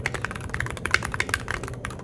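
Keystrokes on a keyboard fitted with standard PBT keycaps, a steady run of quick, close clacks typed at an even pace with no talking.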